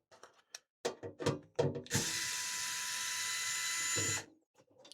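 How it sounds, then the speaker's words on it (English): A HOTO PixelDrive cordless electric screwdriver backs screws out of a case, opening with a few short ratcheting clicks before a steady high-pitched motor whine runs for about two seconds and stops. "what we're going to do now is just take the screws out on this case just to see how well it handles it"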